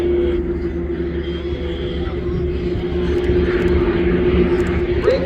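A steady, loud drone of the Royal Jordanian Falcons aerobatic aircraft hangs over an airshow crowd as the team sets up a formation manoeuvre, a continuous engine hum with a faint voice over it.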